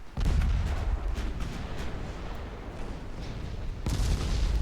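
Naval guns firing in the Ultimate Admiral Dreadnoughts game, a battleship broadside, a deep booming salvo opening with rolling rumble and scattered distant reports, then a second heavy blast near the end.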